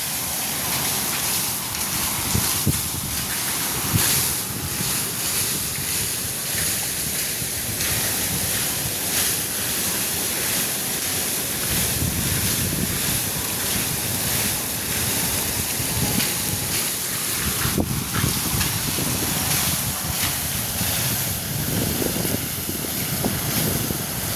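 Water churns and rushes steadily against the gates of Muthiyankattu reservoir in Mullaitivu, Sri Lanka, a dense, continuous roar mixed with gusty wind noise across the microphone.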